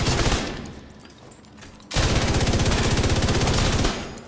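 The Iron Lung exotic light machine gun firing incendiary rounds in The Division 2: a loud, rapid, continuous burst of automatic fire, a brief pause, then a second sustained stream of fast, evenly spaced shots.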